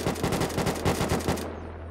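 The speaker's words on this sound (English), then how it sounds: "There's shots going on here." Rapid automatic gunfire from the Unturned survival shooter game rattles off in a dense burst of shots for about a second and a half, loud and close, then cuts to a low hum.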